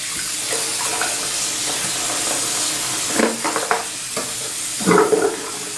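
A hairbrush is rinsed under running water, a steady close hiss from the tap broken by a few splashy bursts as the brush moves through the stream, with no speech.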